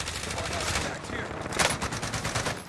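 Rapid gunfire crackles through a video game firefight, a dense burst of overlapping shots that stays loud and continuous, with a faint voice underneath.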